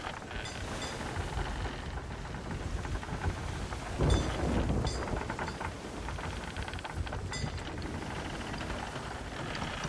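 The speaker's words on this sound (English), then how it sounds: "this storm is not helpful" A video game thunderstorm: a steady wash of heavy rain throughout, with a deep rumble of thunder swelling in the middle and then fading back into the downpour.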